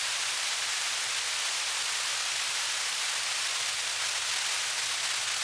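Broadband white noise from the Mai Tai synthesizer in Studio One hisses in an even, steady wash, bright and hissy, with no voices and no change in level.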